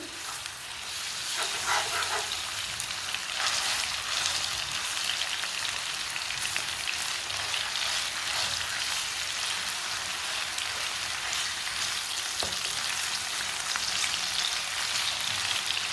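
Chicken mince frying in very hot oil gives a dense, steady sizzle like heavy rain, loud and close for the whole stretch, with a few faint scrapes of stirring and no voices.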